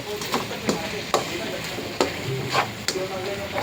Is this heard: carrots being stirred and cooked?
yes